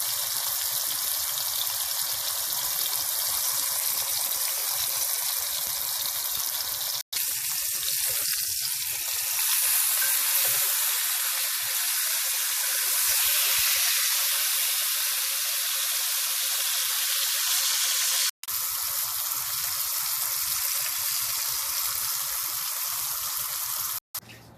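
Pork chops sear in hot olive oil in a pan, giving a loud, steady sizzle that carries on unbroken for the whole stretch, with a couple of brief clicks and no voices.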